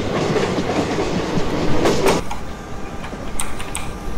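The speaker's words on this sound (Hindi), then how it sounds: "तो एंजॉय करते हैं अपने यही वाले जो ट्रैक साउंड है वो।" Indian express train in the Open Rails train simulator, running steadily on the track with a continuous rumble and clickety-clack of wheels over rail joints, plus a few light metallic clicks near the end, no talking.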